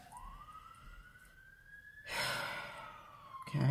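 An emergency vehicle siren wails outside, a single rising tone sweeping upward, followed by a louder rush of noise and a brief sharp sound at the end.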